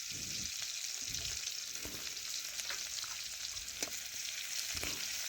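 Crushed garlic sizzling and frying in hot oil with dried red chillies and whole cumin, a steady close crackle interrupted by repeated soft scraping strokes as it is stirred, no voices.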